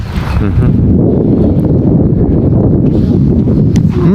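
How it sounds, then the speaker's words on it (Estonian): Strong outdoor wind buffets the microphone with a loud, steady low roar that fills the whole stretch, with faint rustling on top and no clear speech. "Miks see tuul tuleb?"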